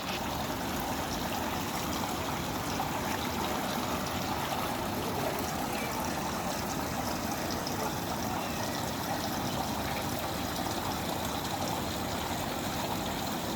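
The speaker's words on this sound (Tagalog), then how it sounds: "Tapos agos lang ng tubig ang maririnig mo." A stream flows steadily in a very quiet natural spot, a constant soft rushing and trickling of water with no voices and no pauses.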